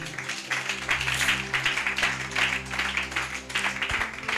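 Church congregation applauding in praise of the Lord, a dense, steady wash of clapping lasting several seconds with a low hum underneath, fairly close and continuous.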